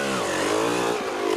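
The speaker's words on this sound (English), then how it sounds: "And then Ruan Roberts back on his Yamaha, riding out at full throttle, running a good result." A Yamaha off-road racing motorcycle at the Kalahari 400 rally held at full throttle, a loud, steady, buzzing engine note that rises slightly as it passes close by.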